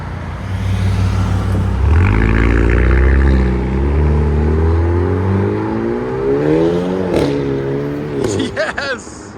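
A 2023 Hyundai Kona N with a 2.0L turbo and AFE cat-back exhaust, valve wide open, revs up loudly and settles back, with a few sharp pops near the end as people talk nearby.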